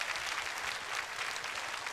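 Applause from a studio audience at a Taiwanese variety show, heard as dense, even clapping from a crowd. It stays close and steady throughout, with no voices over it.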